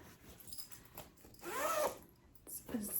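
Zipper on a zippered bag with many inside pockets being pulled, a soft close rasp in short ratcheting strokes, with a longer zip in the middle and faint voice and handling sounds around it.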